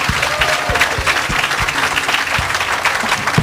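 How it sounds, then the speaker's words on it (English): An audience at a Macy's 2018 Black History Month celebration breaks into dense, sustained applause, with many hands clapping together and a few sharper claps standing out close by. "Let's give them a round of applause for their thoughtful responses."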